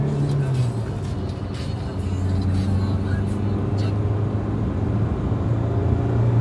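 A Hyundai Creta 1.4 diesel pulls away hard during a long road race against a motorcycle, its steady engine drone and road rumble filling the scene while voices speak over it.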